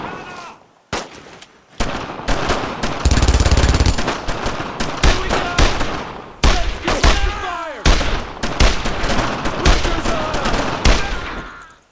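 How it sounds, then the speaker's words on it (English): Heavy World War II gunfire in the Brothers in Arms: Road to Hill 30 video game, near German barracks: dense bursts of machine-gun and rifle fire crack loudly and almost continuously, with shouted voices between volleys. "Heavy fire, right there!"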